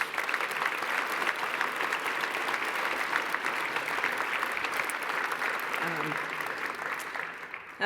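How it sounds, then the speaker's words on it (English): An audience at an awards ceremony gives a steady, dense round of applause that holds at an even level for several seconds before easing off at the end. "So I just think we should give Hazel a round of applause."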